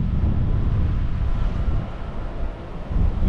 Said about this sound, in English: The powerful cold front brought wind gusts of 35 knots